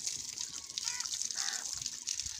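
Water gushing steadily from a solar-powered village tube well, a constant hissing splash with brief bird-like chirps over it.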